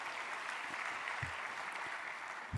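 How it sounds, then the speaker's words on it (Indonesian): Steady applause from a crowd at an Indonesian ministerial event for small and medium businesses, a dense even wash of clapping that holds for a few seconds with a couple of low thumps near the end. "Tepuk tangan sekali lagi buat kita semua."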